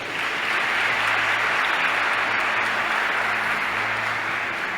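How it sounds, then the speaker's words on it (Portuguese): A church congregation gives a sustained round of applause after a sermon on the Holy Trinity, with dense, even clapping filling the space steadily and no voices on top. "A Ele uma salva de palmas."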